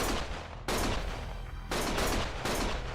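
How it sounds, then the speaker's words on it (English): Gunfire in a video game, dense, loud sustained bursts of shots in three waves, with the second and third bursts starting abruptly after short lulls. "Stop shooting!"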